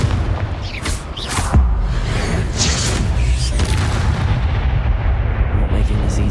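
Confringo fire spell blasting in Hogwarts Legacy, a loud booming explosion over a dense, continuous layer of game combat noise and music, with sharp bursts near the start.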